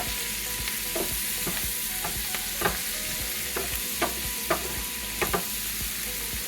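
Sliced cabbage sautés in bacon fat with onions, a constant sizzle broken by regular scrapes and clacks of a stirring utensil against the pan, close up and without talk.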